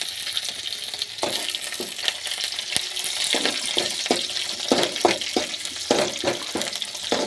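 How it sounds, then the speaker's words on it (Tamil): Oil sizzles and crackles steadily with frying curry leaves and garlic, with occasional stirring scrapes and pops throughout. "கருவேப்பிலை ஃபஸ்ட்டு எண்ணெயில் பொரியும் போது நல்லா மணமாக இருக்கும்."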